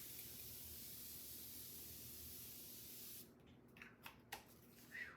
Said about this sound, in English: let's spray it down.